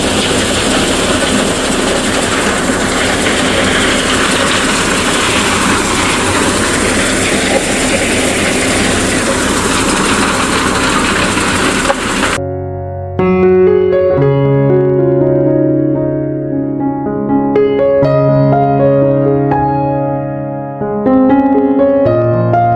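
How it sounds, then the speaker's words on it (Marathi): A maize sheller machine runs with a loud, continuous mechanical rattle and clatter as corn is fed into it; partway through, the machine noise gives way to music. "या साईडला जी मक्की आहे ती मशीन मध्ये टाकली जाते बघा"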